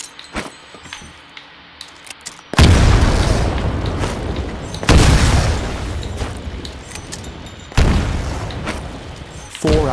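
Grenade blasts in Titanfall: three loud booming explosions a few seconds apart, each trailing off into rumble, with quieter clicks and clatter before the first.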